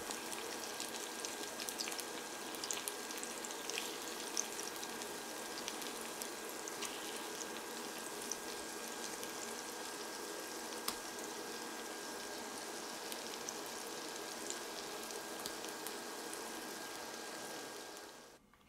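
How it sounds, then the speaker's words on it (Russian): Zucchini and cottage cheese fritters frying uncovered in a pan over medium heat, a steady close sizzle with fine popping crackles throughout, alone and unbroken until it cuts off at the end. "Обжариваю с обеих сторон до золотистой корочки, без крышки, на средней мощности плиты."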